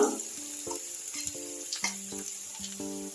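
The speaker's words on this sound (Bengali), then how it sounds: "আমি একটু পেঁয়াজটা সামান্য একটু ভাজা ভাজা করে নিব" Oil sizzles steadily as onion fries in a pan, broken by a few stirring scrapes and faint clinks, with no talking.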